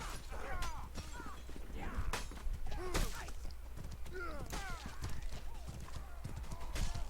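Horse hooves clip-clopping at a gallop during a 20 vs 20 clan battle in a combat video game, a steady run of hoofbeats under game noise and scattered combat sounds, with a voice commentating over it.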